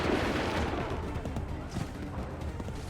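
Musket volley fire rolls across an Assassin's Creed 3 battlefield as a dense, booming crackle of many shots, fairly distant and fading, with battle noise around it.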